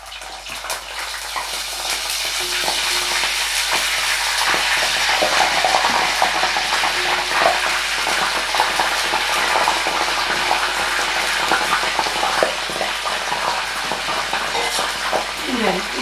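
Eggplant bajjis sizzle steadily in hot oil, a constant, close frying hiss that lasts the whole stretch with small bubbling crackles and occasional clinks.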